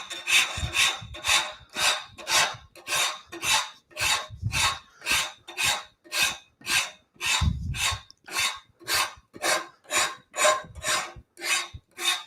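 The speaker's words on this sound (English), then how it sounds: "That was the Nicholson 50 rasp." Nicholson 50 rasp filing wood in a woodworking shop, about twenty rhythmic rasping strokes, each a loud coarse scrape with short gaps between, steady and close throughout.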